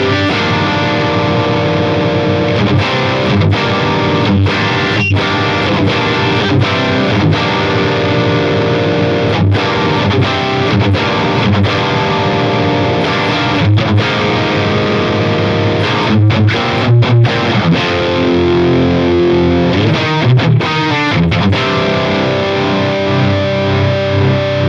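A heavily distorted electric guitar plays chugging riffs and sustained chords through an Engl Fireball 100 amp model in a Helix with mid boost on, thick midrange tone, loud and continuous with brief pauses between phrases.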